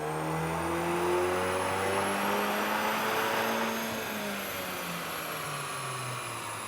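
Volkswagen Golf R MK8 on a dyno during a stock run, the engine revving hard and rising steadily through the pull before easing off, a constant loud drone with no voices.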